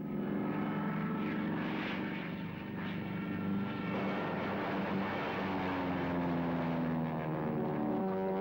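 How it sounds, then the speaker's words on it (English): A Supermarine Spitfire, the WWII fighter plane, roars with a loud sustained engine drone that holds steady and rises slightly in pitch as it passes close, with no talk. "Spitfire."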